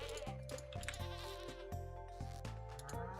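A goat in the Stardew Valley video game bleats in repeated quavering calls over a steady, tonal in-game music backdrop, close and clear, with no talking.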